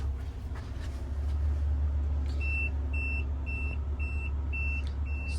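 After a couple of seconds of idling engine hum from a 2008 Honda Odyssey wheelchair van, a steady series of six short, high electronic beeps from its conversion repeats at an even pace.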